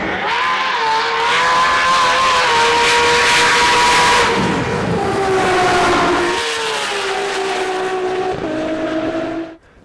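A 1200-horsepower Nissan R32 GT-R race car at a drag event, engine loud and close, revving hard through rising gear pulls with brief drops between shifts before cutting off at the end.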